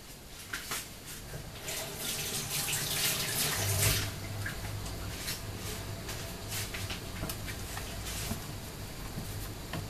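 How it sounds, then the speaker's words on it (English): A kitchen tap runs steadily for handwashing, with a continuous splashing rush of water into a sink and a few small knocks and clatters, fairly close and with no talk. "I'm going to wash my hands."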